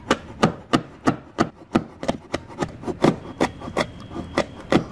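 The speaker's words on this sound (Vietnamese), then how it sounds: "Ớt cay mình sẽ cắt lát hết luôn." A knife taps repeatedly against a wooden board in an even rhythm, slicing chili peppers, close up, each cut sharp and distinct, with no voices.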